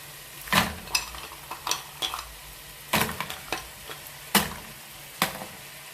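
Mussels go into a paella pan, and metal clatters and knocks sharply several times over a low background sizzle.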